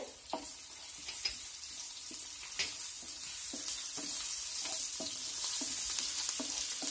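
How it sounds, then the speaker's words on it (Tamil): Steady oil sizzle of chopped ginger and garlic frying in a pan, with a soft continuous crackle and occasional stirring scrapes, fairly close. "இப்போ போட்டு வறுத்துக்கோங்க நான் பேனில் எண்ணெய் ஊற்றி வச்சுருக்கேன்"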